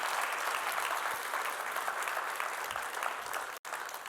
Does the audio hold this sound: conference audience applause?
yes